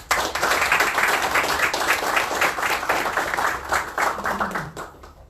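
An audience at an economics talk applauding, a dense, steady round of clapping that fades out at the end.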